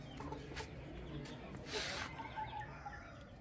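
Rooster on a farm clucking a few times at moderate distance amid steady outdoor background noise.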